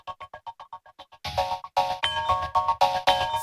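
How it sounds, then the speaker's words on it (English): Wind chimes sample played from an Ableton drum rack, first a quick series of short clipped tinkling hits, then louder ringing metallic chime strikes retriggered in a choppy rhythm. "I pulled up a drum rack in Ableton, and I took a sample of like these like wind chimes"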